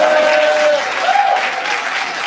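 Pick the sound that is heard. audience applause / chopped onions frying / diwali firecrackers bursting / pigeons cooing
audience applause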